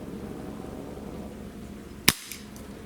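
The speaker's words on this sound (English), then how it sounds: "I would say that's a pretty powerful pellet pistol" A single sharp crack from a Webley MKVI 4.5 mm CO2 pellet pistol, one close, loud shot after a stretch of quiet room hum.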